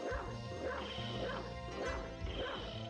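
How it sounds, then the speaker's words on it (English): Turbo the dog barks repeatedly in a steady bow-wow rhythm, a cluster of close, loud yips and barks over a dense, continuous game-music bed during a Castlevania: Symphony of the Night Richter boss fight. "Turbo barks."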